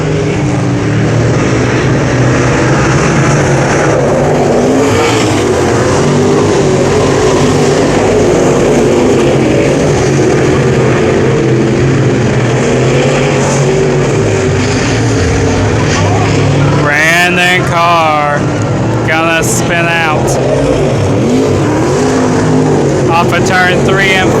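Race cars at Brownstown Speedway roar around the track in a steady, loud engine drone that swells as the pack passes, with a voice talking over it.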